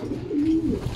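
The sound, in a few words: pigeon cooing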